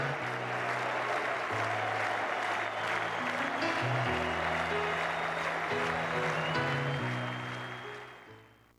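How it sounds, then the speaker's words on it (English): Sustained roar of applause and cheering from a large hockey arena crowd at Pittsburgh's Mellon Arena for Mario Lemieux, loud and continuous with organ-like tones sounding over it, fading near the end. "Mario has taken the ice to a standing ovation from"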